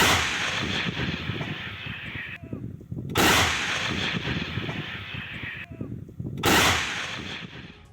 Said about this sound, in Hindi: 2S7M तोपों से यूक्रेनी ठिकानों पर बमबारी की है